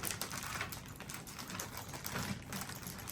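Quiet, soft typing on the keyboard of a Lenovo Yoga AIO 9i 32-inch desktop, a steady, dense patter of light keystrokes with no sharp clicks, close and fairly faint.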